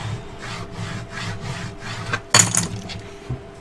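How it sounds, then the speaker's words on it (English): Paper on a Christmas gift box album is burnished with repeated rhythmic rubbing strokes, close and fairly soft, followed by a sharper scrape and a couple of fainter rubs. "Give it a really, really good burnish."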